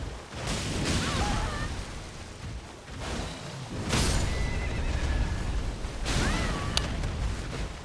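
A horse in the Elden Ring video game whinnies several times amid game noise and hoof clatter, moderately loud with sharp bursts between the calls.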